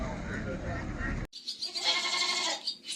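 Goats bleat at a livestock market in Maştağa, where sheep and cattle are also sold; someone talks over the first part, then several nasal bleats and animal calls follow, moderately close with background bustle.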